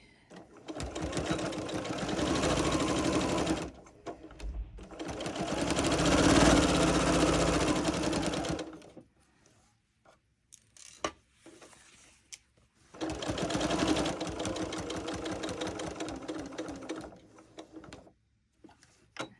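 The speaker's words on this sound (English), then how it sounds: "I will back stitch there also" A sewing machine stitches and back-stitches a quilt in three close, loud whirring runs separated by brief pauses with faint handling clicks.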